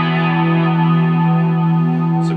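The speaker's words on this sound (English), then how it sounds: "It's a bunch of chorus." Sustained instrument tone run through a thick chorus effect with distortion, a dense shimmering chord held loud and steady, with a brief faint high squeak near the end.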